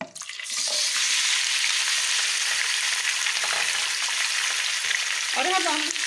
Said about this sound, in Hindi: मटन जो मैंने 2 kg लिया था, अब हम इसको ऑयल के अंदर डाल देंगे।